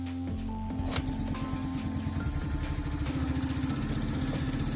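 A Honda Dio AF62 scooter engine, cold and due for valve adjustment, cranks and catches, settling into a steady close putter with rapid even firing pulses throughout.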